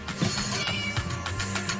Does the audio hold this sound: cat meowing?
yes